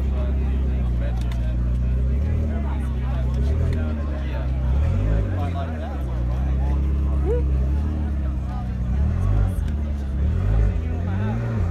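A McLaren sports car pulls off at an exotic car show on a closed bridge, its engine a loud, steady low rumble that rises and falls under a crowd's babble and nearby talk.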